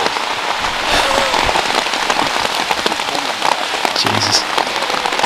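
Heavy pouring rain during a disc golf championship round in Britain, a dense, continuous hiss of drops hammering surfaces close by, steady and loud throughout with no talking.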